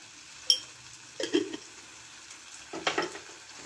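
Tomatoes frying in a pan with salt already added, cooking down for a Bengali duck egg dopeyaza; a sharp clink, then two bursts of stirring and sizzling a second or so apart, close and moderately loud, with no talking.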